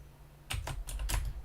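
Keyboard key presses during digital art work, several quick clicks in a short burst, fairly close and crisp with no talking.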